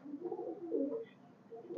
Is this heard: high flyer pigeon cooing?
yes